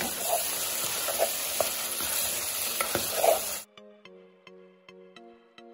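Pepper chicken stirred in a pan with ground black pepper, sizzling and scraping for several seconds, then cutting off abruptly into quiet room tone with faint tonal hum.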